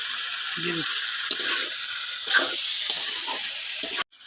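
Potatoes sizzling in oil for a village-style duck curry, a loud, steady hiss broken by a few knocks and stirs, with a brief voice murmuring in the background.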